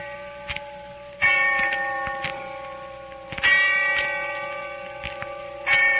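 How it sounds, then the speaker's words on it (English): A church bell tolls in the distance with slow, evenly spaced strikes, each ringing out and fading under a faint background hum before the next. "when I heard the bell tolling somewhere in the distance"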